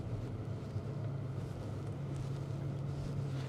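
Steady engine drone and road rumble inside a moving Porsche Panamera Sport Turismo, a continuous low hum with wind noise that holds evenly throughout, no talk over it.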